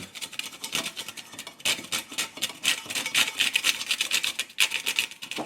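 Ceylon cinnamon sticks are ground with a pestle in a mortar, producing rapid, rhythmic gritty rasping and crunching strokes that continue nearly without pause, close up.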